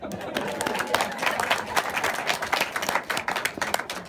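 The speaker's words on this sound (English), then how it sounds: "Let's give a round of applause for that." Wedding guests at a reception clap and cheer, bursts of close hand claps mixed with crowd chatter and voices, fairly quiet overall and uneven in rhythm.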